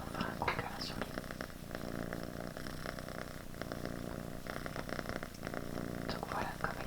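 A cat purrs close up in a steady, soft rumbling rhythm, quiet and continuous with a few faint rustles over it.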